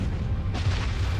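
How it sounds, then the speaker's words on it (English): A supernova explosion rendered as a deep, sustained booming rumble that swells slightly midway, dense and heavy in the low end, with no voices. "kicking off one of the most massive explosions in our universe since the Big Bang"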